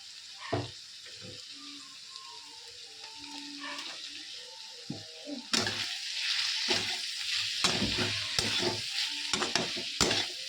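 Chili powder and combination masala fry in a pan for cauliflower curry, a steady close sizzle with repeated scraping stirs that grow louder and busier in the second half.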